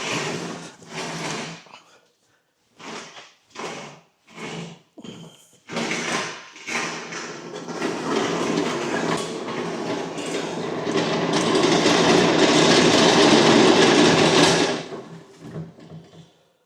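A Euro-Tec MRS3 mid lift ramp is tipped onto its front wheels and rolled across a garage floor, giving a series of short metallic clunks and knocks followed by a sustained, louder rattling roll that fades out near the end.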